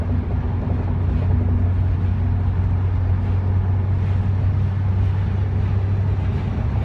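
A Porsche 944 engine pulls in fifth gear from inside the car, a steady low drone with road and wind noise, continuous and fairly loud with no talking.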